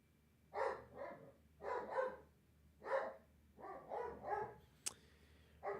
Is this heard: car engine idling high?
no